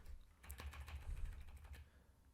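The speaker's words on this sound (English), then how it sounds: "move down with my arrow keys" Computer keyboard arrow keys pressed in a quick run of about a dozen soft, close clicks, then quiet, with no voices.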